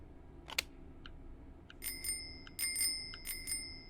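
Bicycle bell used as a noisy device in a combat video game, rung alone in several bright metallic dings, one early strike and then a rapid cluster of repeated rings, clear and close.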